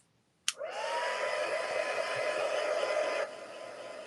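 A hair dryer clicks on and blows steadily at close range to dry wet paint on a page, a constant airy whir for almost three seconds before it switches off.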